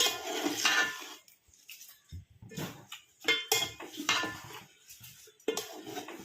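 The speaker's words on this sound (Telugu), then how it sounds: "ఇప్పుడు ఇదంతా కలపాలి చికెను ఇరిగిపోకుండా జాగ్రత్తగా కలపండి" Chicken biryani rice gently mixed in a metal pot, with intermittent scraping and clinking of a spoon against the vessel in short irregular bursts.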